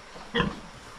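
A single short grunt from a mother pig (sow) tied up in a farm pen, brief and fairly close over quiet background.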